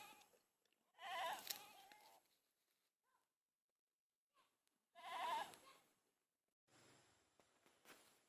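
A goat bleats twice, loud and close, with quiet gaps between the calls and a softer rustle near the end.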